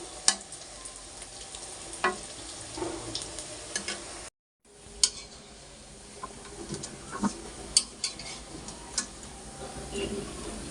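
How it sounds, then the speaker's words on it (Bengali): Lentil fritters (dal bora) sizzle in hot oil in a pan while being turned, a steady quiet bubbling hiss broken by scattered crackles and light utensil taps, with a short silent break partway through. "বড়াগুলো যাতে মুচমুচে হয় সেজন্য হালকা আছে ভাজতেছি"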